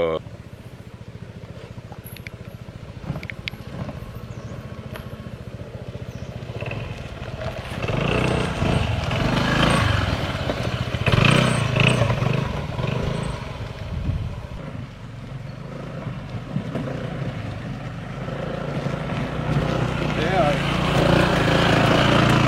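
Motorcycle riding slowly along a mountain road, its engine a steady low drone mixed with wind noise on the microphone, continuous throughout with voices talking over it.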